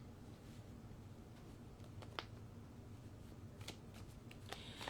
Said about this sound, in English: I'm about to start shuffling